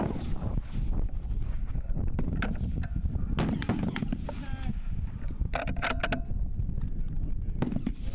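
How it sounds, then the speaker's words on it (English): Strong wind gusting across an outdoor shooting range during a positional rifle match, a steady low roar buffeting the microphone throughout, with sharp distant cracks breaking through at intervals. "there is definitely a heavy right to left wind"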